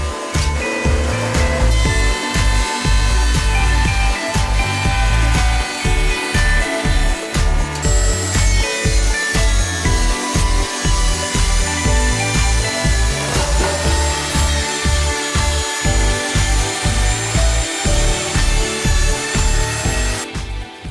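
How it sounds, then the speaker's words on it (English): A jointer and planer mill Douglas fir 4x4 rails, a loud continuous machine whine with rhythmic thumps as boards feed through, unbroken for the full stretch. "I run them through the joiner and the planer"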